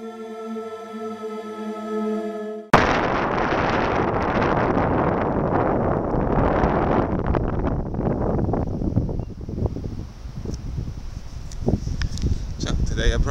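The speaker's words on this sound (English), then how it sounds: "I hope you guys can hear me because the wind is going crazy." Strong wind buffets the microphone in a loud continuous roar and rumble that starts abruptly and gusts on for about ten seconds, with no talking heard.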